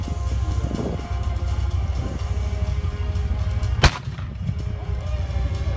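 A Leopard 1 tank fires its gun once during a mock battle at a tank arena, a single sharp, loud blast cutting through a continuous low engine rumble.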